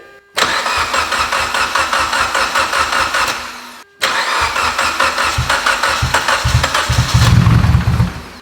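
A tuned Mitsubishi Evo X engine of about 800 wheel horsepower cranks and fires up, then a short pause before a second start that catches and settles into a loud, steady rumbling idle with rhythmic pulses.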